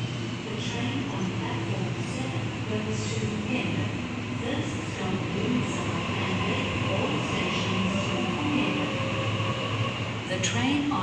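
A train idles at a Blacktown station platform with a steady mechanical hum and a faint whine, while a voice talks over it.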